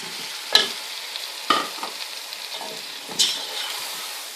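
Prawns sautéing with spices in a pan for a Chennai-style prawn biryani: steady sizzle with three distinct stirring scrapes, close and clear, no talking.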